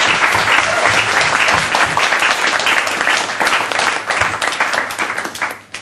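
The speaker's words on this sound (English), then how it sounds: "So have a big round of applause." A large audience at a question-and-answer talk breaks into loud, sustained applause, dense clapping filling the space before tapering off toward the end.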